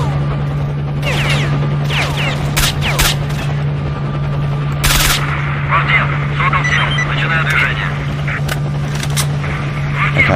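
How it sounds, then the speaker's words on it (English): Helicopter machine-gun fire in STALKER: Shadow of Chernobyl crackles in scattered sharp bursts over a constant low hum, with someone talking throughout. "running from the helicopter fire"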